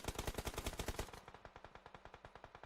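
MG3 machine gun in PUBG Mobile firing a long sustained automatic burst, rapid evenly spaced shots rattling loudly and continuously, with no talking over it.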